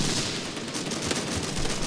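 Gunfire in the video game Call to Arms, a dense, continuous crackle of distant shots filling the short stretch, with no voices.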